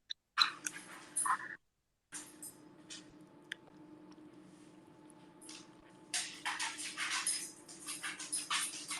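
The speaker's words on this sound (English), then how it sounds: "I love listening to your dogs on your floor, Nikki." Pet dogs padding and shuffling across a floor at close range: soft scratchy clicks and scuffles that come and go in bursts, with a brief dropout near the start and a steady faint hum underneath.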